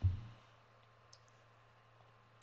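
Sparse soft taps on a touchscreen keyboard while typing text into a document, a few faint clicks spaced out over a quiet background with no talking.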